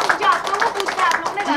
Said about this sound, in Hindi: सारे ही टीम मेंबर्स के लिए जोरदार तालियां हो जाए।